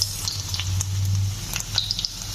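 Food frying in a pan in a home kitchen, a soft steady sizzle with faint crackling pops and a low hum underneath, close but quiet.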